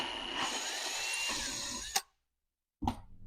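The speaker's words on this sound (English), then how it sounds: "the first step is to drill out the damaged thread" A power drill drills out a damaged thread for a coil insert repair, whirring for about two seconds before stopping, then a short burst of handling after a pause of silence.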